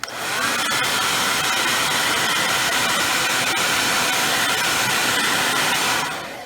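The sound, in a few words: heat gun heating iPhone 8 Plus back glass corner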